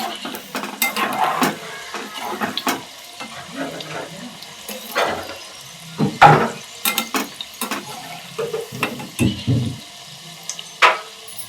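Onion bhaji being fried in oil, with recurring splashes, stirring and utensil clatter against the pan, close and moderately loud throughout with no talk.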